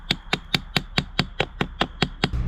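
Sharp, evenly spaced knocks of a rock hammering tent posts into hard ground, about eleven loud strikes in a steady quick rhythm, close and alone.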